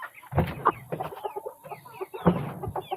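Chickens cluck and squawk close by in agitated bursts while being moved into a newly finished permanent coop, with several birds calling over one another in quick, uneven clusters.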